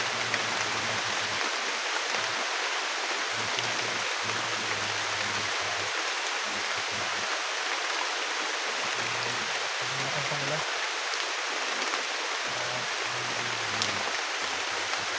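Steady, dense rain hisses evenly throughout, a constant wash of falling water with no pauses.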